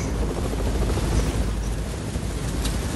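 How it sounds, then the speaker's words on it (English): Steady, dense helicopter rotor and engine roar in a video game, loud and continuous throughout without breaks. "Ella, you're destroying the helicopter"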